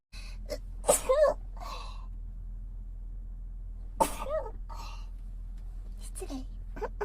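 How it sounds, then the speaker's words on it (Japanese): A live streamer sneezes sharply twice, close to the microphone, with a burst near the start and another a few seconds later, separated by soft breaths and quiet vocal noises over a low steady hum. "くしゃみ出そう。"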